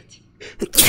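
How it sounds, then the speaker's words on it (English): A single close sneeze bursts out at the end of a short quiet stretch with a breathy intake just before it, loud and sharp, from a person playing the virtual reality spy game I Expect You To Die. "I gotta sneeze."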